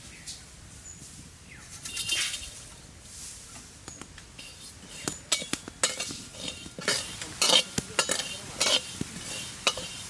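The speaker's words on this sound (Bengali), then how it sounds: "শুকনো খোলাতে অল্প কটা গোটা জিরে আমরা ভেজে নেবো" Whole cumin seeds rattle and scrape as they are dry-roasted and stirred in a dry pan, with quick metallic clinks and crackling growing busier over time.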